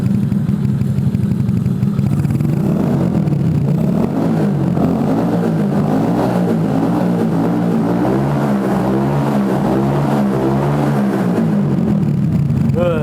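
A Monkey Bobber custom motorcycle engine blips and revs loudly from idle, rising and falling in repeated throttle bursts close by, a steady engine drone running through the whole stretch.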